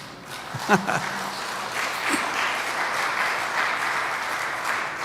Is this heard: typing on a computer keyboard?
no